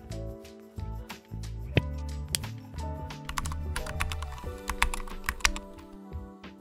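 Question being typed into a store page on a computer keyboard: a steady run of close, clattering keystrokes with brief pauses, plus a few heavier knocks, and no talking.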